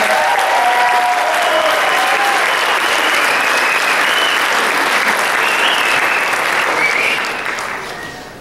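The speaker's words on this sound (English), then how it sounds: "Let's give them one more big round of applause" A concert audience gives the All City Elementary Choir a big, steady round of applause, dense clapping that holds strong before tapering off near the end.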